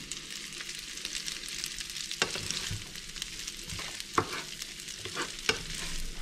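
Vegetables and basil sautéing in a pan for pasta fagioli with beans, a steady low sizzle under repeated scraping stirs, with a few sharper utensil clacks against the pan, close and moderately loud, no talking.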